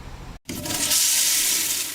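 A toilet flushes with a loud, sustained rush of swirling water that starts after a brief click and fills the whole short moment, with no voices over it.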